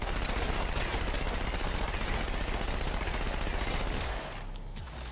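Dense, rapid gunfire in the video game Halo hammers on without pause for several seconds, then cuts out abruptly and leaves a quieter hum behind.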